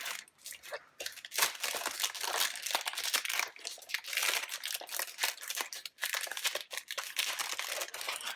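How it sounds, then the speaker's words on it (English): Chalk Couture transfer pulled from its plastic packaging, continuous close crinkling and rustling of thin film in irregular bursts, with no talk. "we're going to take this out of the packaging."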